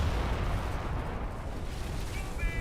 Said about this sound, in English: Mortar takes a hit, a direct hit in the mortar itself.